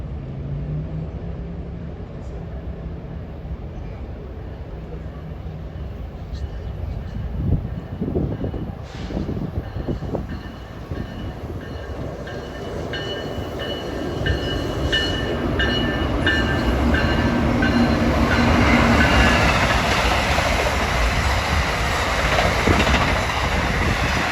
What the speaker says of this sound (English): Got a couple of New York bound transit consists coming at 4:07